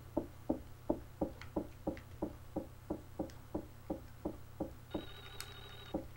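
A telephone rings in the Clock Tower SNES video game: a long series of sharp, evenly spaced electronic rings repeating about every third of a second, with a brief higher tone near the end, no voices.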